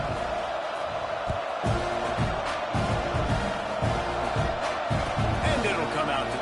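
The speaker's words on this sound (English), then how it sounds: "this crowd is buzzing after that last score" A packed stadium crowd at a Tennessee at Texas A&M college football game keeps up a steady loud roar and buzz after a score, with a commentator talking over it throughout.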